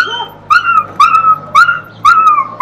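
A puppy stuck inside a water drain pipe gives four loud, high whimpering cries in a regular rhythm, each with short gaps of low background hum between.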